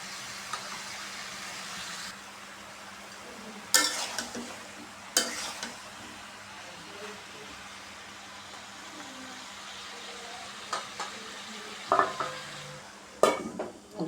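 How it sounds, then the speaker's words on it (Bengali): Vegetables being sautéed and stirred in a pan, with a steady low sizzle throughout and occasional sharp scrapes and clinks of the spoon against the pan, close and fairly quiet. "সবজিটা আমি ভালোভাবে কষিয়ে নেব।"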